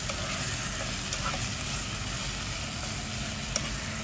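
Steady close sizzling of kare-kare sautéing in a pan with peanut butter and pork cube, a continuous frying hiss that stays even throughout with a faint low rumble beneath.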